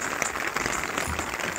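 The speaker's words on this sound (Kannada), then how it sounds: "ತುಂಬ ಮಳೆ ಬರ್ತದೆ ನೋಡಿ, ಯಾವ ಥರ ಮಳೆ ಬಂತು" Heavy rain pours down in a dense, steady patter of drops drumming on surfaces nearby, briefly heard and fairly loud, with no voices.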